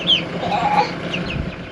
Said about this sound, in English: You got baby chickies? Show me the chickies. We got some meat birds.